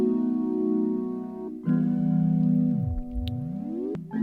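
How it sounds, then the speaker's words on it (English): A sustained synth pad is layered under chords in an Afrobeat beat, giving a thick, steady harmonic wash. A long pitch-bending swoop dips low and rises again near the end. "So I got a pad that I added to make it sound more full."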